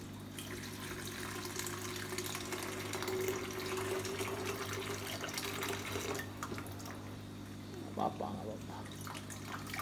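Water is poured out of a container during care of a 15 cm Asiatica plant, splashing in a continuous trickle under a steady low hum, with a brief louder slosh near the end and talk nearby.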